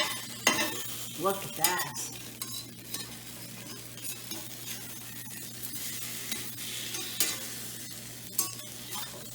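French toast frying in a pan over medium heat, a steady close sizzle with scraping and utensil clatter against the pan, while a voice briefly speaks over it.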